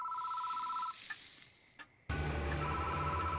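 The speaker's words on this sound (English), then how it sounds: "The phone is ringing." A phone rings with a sustained electronic tone in the Death Mark video game. The ring cuts off, a brief quiet follows, and then a louder, denser burst of game sound takes over.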